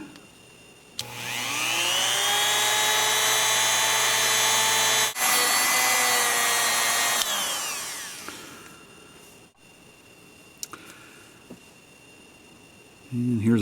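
A Smith & Wesson third-generation pistol part is buffed with polishing paste on a power polisher, giving a loud, steady high-pitched whine for about six seconds that winds down and fades out.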